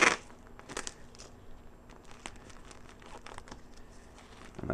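Tape being pulled and pressed onto a grain spawn bag for mushroom growing: crinkly plastic rustles at the start and end, with faint light crackles in between, close by and quiet.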